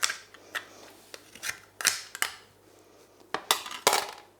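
A metal spoon scrapes and scoops raw scallop from its shell, giving a series of short, close scraping and clinking sounds with brief pauses between strokes, no voices.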